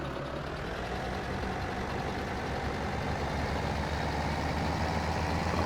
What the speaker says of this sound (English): Let's get that tractor going.